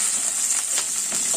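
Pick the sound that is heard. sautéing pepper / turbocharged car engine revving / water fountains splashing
sautéing pepper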